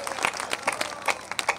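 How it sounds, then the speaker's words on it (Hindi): A comedy poetry recitation audience claps in a short burst of uneven claps, distinct individual hand claps at moderate volume with no voices over them. "एक बार जोरदार तालियां बजाइए"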